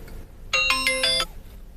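A phone rings on an outgoing call as one short electronic ring of bright, stacked tones. It starts suddenly, lasts under a second in quiet surroundings and then stops.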